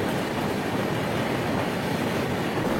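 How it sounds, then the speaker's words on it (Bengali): Superfast express train from Chennai Central to Mumbai CSMT rumbling steadily past at close range, a loud continuous roar of wheels and carriages with no pauses. "ট্রেন নাম্বার 22160 চেন্নাই সেন্ট্রাল থেকে মুম্বাইগামী মুম্বাই সিএসএমটি সুপারফাস্ট এক্সপ্রেস।"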